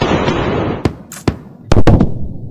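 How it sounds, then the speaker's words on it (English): Sharp sonic boom from a supersonic aircraft, heard as distinct bangs in sequence, loud and close after a stretch of rumbling noise. "supersonic aircraft make a sonic boom, which we as human beings do hear as a double bang"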